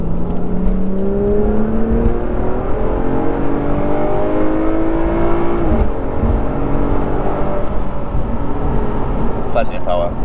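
A naturally aspirated Lotus Evora engine revs and climbs through rising pitch sweeps, steady and fairly loud, with a brief dip mid-way before building again.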